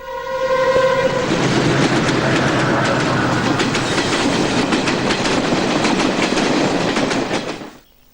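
A train rumbles past loudly close to a house, with rhythmic clacking of wheels on the railway track. A horn sounds briefly at the start, and the noise then cuts off.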